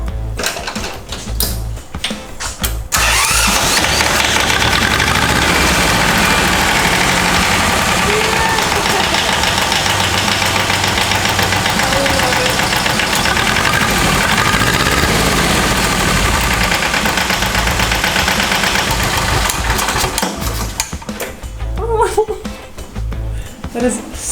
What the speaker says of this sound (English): I can't wait to hear it clatter clattering as the tractor's running.